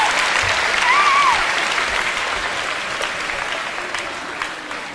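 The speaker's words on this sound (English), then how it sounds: "Give him a round of applause" An audience applauds at a live talk, a dense wash of clapping that is loud at first and gradually thins, with a brief voice audible over it.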